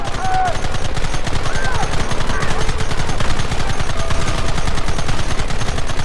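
Rapid gunfire in the Western video game Red Dead Redemption, a dense fusillade of rifle and machine-gun shots crackling continuously and loudly through a battle, with a voice briefly calling out over the shooting.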